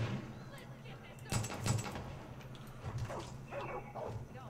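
A dog in the video game Far Cry 5 barks and yips in short bursts amid gameplay noise, fairly close, with people talking over it.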